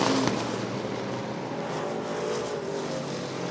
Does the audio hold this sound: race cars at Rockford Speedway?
yes